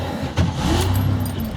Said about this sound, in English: So we'll drive this car